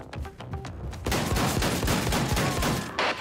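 Shotgun blasts from Wolfenstein II fire in a rapid, dense run of loud, booming shots over a game soundscape, following a few lighter clicks at the start.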